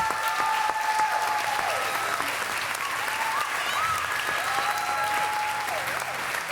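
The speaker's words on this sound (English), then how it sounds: "Give them a big, big round of applause." An audience gives teachers warm applause at a Sukkot 2020 program presentation, with sustained dense clapping throughout and faint tonal sounds rising and falling underneath.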